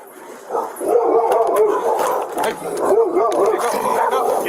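A family dog barks and yips near a house during a police call in Waco, repeated sharp barks and whines for several seconds, loud and close, with voices underneath.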